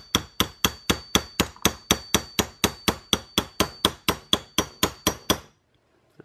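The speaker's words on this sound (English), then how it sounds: "take a little hammer and tap him down into place" A small hammer taps a part down into place on a Glock 19 slide, about eighteen quick, even metallic taps in a steady rhythm, close and crisp, before stopping into silence.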